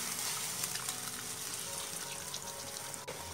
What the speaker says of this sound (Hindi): साथ ही हम इसमें पानी ऐड कर देंगे।